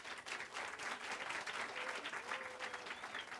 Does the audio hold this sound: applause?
yes